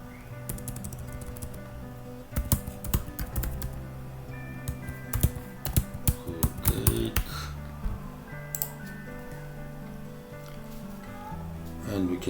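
Keys on a computer keyboard click in scattered, uneven bursts of typing, fairly close, with short pauses between runs of keystrokes.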